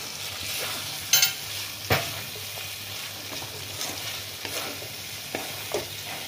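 Pointed gourd pieces fry in hot oil with garam masala, a continuous close sizzle broken by a few sharp stirring clinks and spatters, with no speech.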